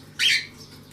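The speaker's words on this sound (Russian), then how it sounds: "напугал попугая." A pet parrot startled by a cat lets out a single sharp, loud, close squawk lasting a fraction of a second, followed by quiet room tone.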